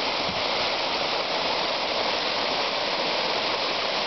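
A town water fountain splashing, a loud, steady rushing spray of falling water heard up close and continuing without pause.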